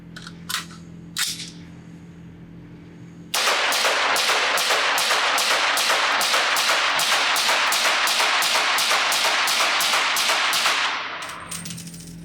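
Supersonic .30 caliber rifle rounds fired through a compact KAC 762 QDC suppressor, about twenty loud sharp shots in a rapid, steady string, with no talking.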